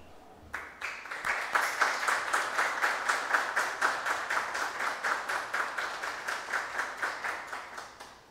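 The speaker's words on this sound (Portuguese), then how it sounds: "saudássemos com uma salva de palmas a Univiçosa" Audience applause fills a council meeting chamber, a steady rapid clapping that starts abruptly, stays loud and sustained, then gradually thins toward the end with no talking over it.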